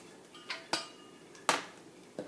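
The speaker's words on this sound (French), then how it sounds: "on les met ensuite dans une casserole" Pear pieces drop into a saucepan in a few separate light clinks and taps, about four small impacts spread over a couple of seconds, quiet and close with no talk.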